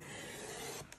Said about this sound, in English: I'm using an old cutter here.